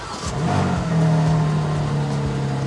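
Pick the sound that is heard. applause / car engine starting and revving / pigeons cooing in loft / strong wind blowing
car engine starting and revving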